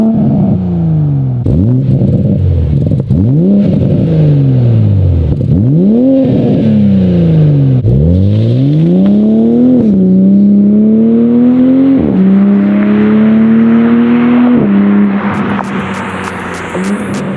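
A Toyota Supra fitted with a 5-inch titanium single-exit exhaust revs repeatedly, close and loud, climbing in sharp pulls then settling into longer sustained high-rev holds.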